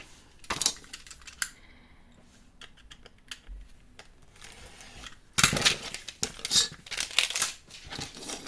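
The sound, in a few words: cutting off excess paper for mini album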